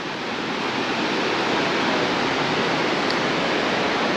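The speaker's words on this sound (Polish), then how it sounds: "tam też są wodospady" A dense, steady roar of a waterfall in southern Laos fills the space, loud and unbroken without any voices.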